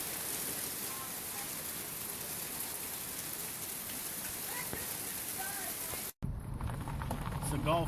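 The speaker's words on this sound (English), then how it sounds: "Because we actually needed a little bit of rain." Rain falls on a golf course's grass after a dry spell, a steady close hiss of drops for several seconds, then a brief cut before the rain continues, sounding nearer and rougher.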